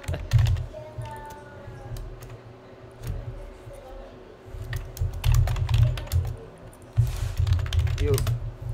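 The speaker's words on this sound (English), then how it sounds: "I'm typing some" Rapid, uneven clicking of keys on a computer keyboard during an online game session, close to the mic, with someone talking at times over the typing.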